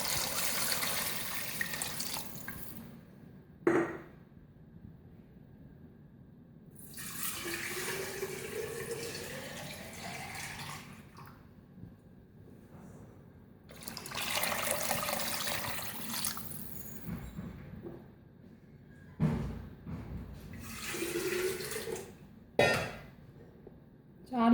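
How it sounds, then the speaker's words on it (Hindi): About four liters of water is poured into a pot of beef nihari in a home kitchen, coming in several separate rushing bursts with quiet pauses between them, moderately loud. "तकरीबन 4 लीटर पानी शामिल करेंगे।"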